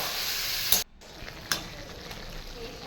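Spiced food being sautéed (kosha) in oil in a pan, a steady close sizzle with a brief sharp dropout and a couple of stirring scrapes, no talking.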